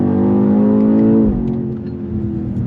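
A 2025 BMW X6 M Competition engine revs hard in second gear toward the red line, a loud, steady climbing roar that drops back sharply partway through, with no talk.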